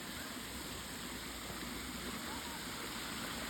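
Water flows from a row of traditional stone water spouts, a continuous rushing splash like a small waterfall, steady and fairly distant throughout.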